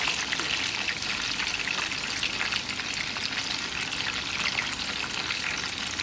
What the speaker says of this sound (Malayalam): അങ്ങനെ ഇതുപോലെ തന്നെ എല്ലാ പീസസും നമുക്ക് ഫ്രൈ ചെയ്തെടുക്കാം